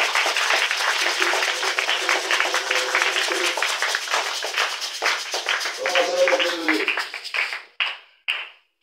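Congregation at a church service applauding loudly, dense sustained clapping from a large crowd with a voice speaking over it, tapering off into a few scattered claps at the end.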